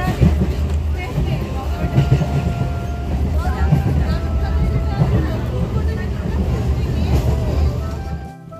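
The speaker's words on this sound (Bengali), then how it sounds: "আর কিছুক্ষণ বাদেই ট্রেনটা ছাড়বে" Inside a crowded local train at Habra station waiting to depart: a steady low rumble and hum of the carriage with a busy murmur of passengers around, loud and continuous, fading abruptly at the end.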